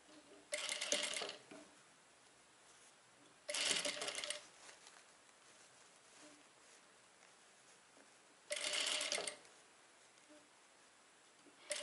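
Sewing machine stitching lace fabric onto a skirt hem during a clothing repair, three separate bursts of loud, fast mechanical whirring, each lasting about a second, with quiet pauses between them and no voices.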